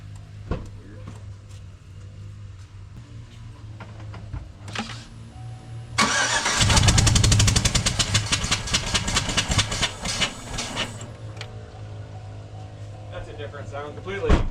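A supercharged 2008 Chevy Tahoe V8 with a spark plug missing and no coolant in the system cranks, catches and runs loudly with a rough, rapid chuffing for several seconds, then idles down, with people talking nearby.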